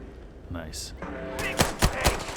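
Gunfire from shooting pirates in the space game Starfield, a quick burst of several sharp, loud shots in close succession after a brief stretch of quieter game sounds.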